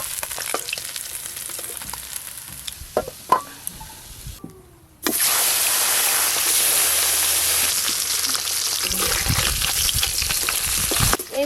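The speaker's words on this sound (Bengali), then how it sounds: "মাছগুলো বেশ ভালো করে ভাজা হয়ে গেল" Parshe fish sizzle and crackle in hot oil, a steady frying hiss with brief pauses that drops out for a moment before returning louder and denser, close and continuous.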